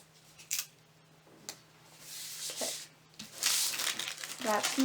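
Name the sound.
masking tape being applied to a diamond painting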